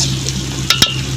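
Okra (bendakaya) fry cooking in a pan, with a soft steady sizzle and two sharp scraping stirs of a spoon against the pan, close up and with no talking.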